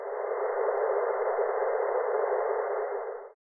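Wind tunnel test section noise from an airfoil trailing edge fitted with serrations: a constant, band-limited hiss, slightly quieter, that runs for over three seconds and then cuts off abruptly, with no talking.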